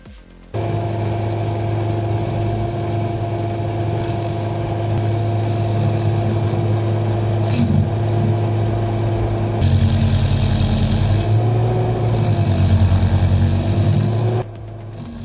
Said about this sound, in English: that's a 54 horsepower Kubota gas engine running here